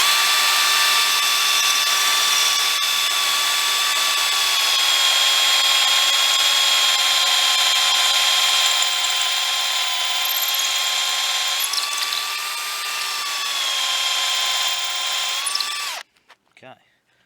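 A Bosch PSB 1800 LI-2 cordless combi drill bores into soft brick at fast speed with a standard bit, giving a loud steady motor whine with slight pitch shifts, then stopping abruptly near the end, followed by a few brief handling sounds.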